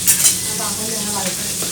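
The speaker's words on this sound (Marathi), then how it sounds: "इतके तेल पण गरम झालेलं आहे एकदम टाका टाक आवाज येते चिम चिम चिम चिम" Fish frying in hot oil in a home kitchen gives a loud, steady sizzle and crackle throughout, with a brief sharper burst at the start.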